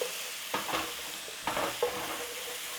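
Garlic and ginger stir-fried in a hot pan over a high flame, a soft constant sizzle broken by several scraping stirs of the utensil, close and fairly quiet, with no voices.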